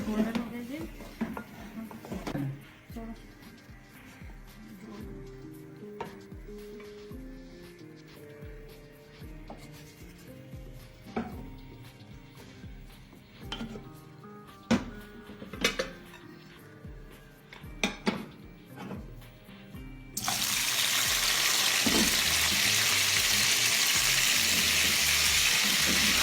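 Onions fry golden in a pot for beef yakhni pulao with a soft sizzle broken by scattered utensil clinks and scrapes. A loud, steady hiss takes over near the end.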